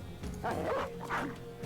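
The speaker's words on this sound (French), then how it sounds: "Non mais il est con ce chien ou quoi?" In the video game Battle Brothers, a dog gives two short, fairly faint barks in quick succession over low background game sounds.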